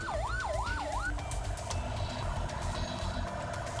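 A fire engine siren wails, sweeping up and down a few times, then continues more steadily over a heavy engine rumble and traffic noise.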